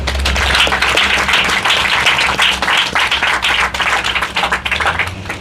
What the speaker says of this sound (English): join me in a round of applause to the projects team of the Ministry of